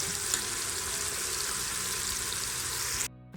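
Green chili and spices hit hot oil for daal, giving a steady, loud sizzle that holds evenly for about three seconds and then cuts off abruptly.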